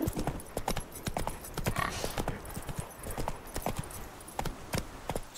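Roach, the horse in The Witcher 3, gallops in a steady rapid clip-clop of hooves, close and fairly loud, with a brief whinny partway through and faint game ambience beneath.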